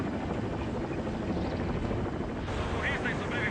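Helicopter hovering over rescuers and survivors, a steady, loud, dense rotor and engine roar filling the whole stretch without pause.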